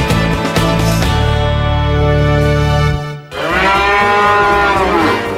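A cow on a farm moos in two long, loud, drawn-out calls separated by a brief pause, the second call rising and bending in pitch, with no talk over it.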